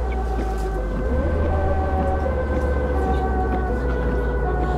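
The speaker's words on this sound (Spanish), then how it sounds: "Voy a dejar pasar la ambulancia." Ambulance siren wails from an ambulance in the bus-driving game Bus Simulator 16, with a steady rising-and-falling tone over a low engine rumble, lasting throughout at moderate loudness.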